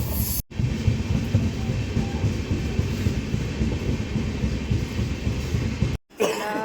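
A train pulls into Wathar railway station in the early morning, making a loud, continuous rumbling roar with rattling. The noise holds steady for most of the clip and cuts off briefly twice.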